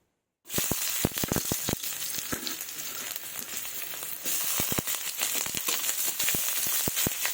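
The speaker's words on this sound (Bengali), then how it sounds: "পেঁয়াজ কুচি দিয়ে দেব" Chopped onion hits hot mustard oil in a wok with a sudden burst of loud, steady sizzling, sharp crackles and pops scattered through it, no voices over the frying.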